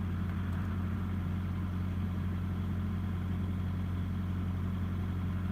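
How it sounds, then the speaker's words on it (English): A truck engine hums steadily while driving, a continuous low rumble with a mid-range drone that stays even and close throughout, with no voices over it. "this truck I'm driving"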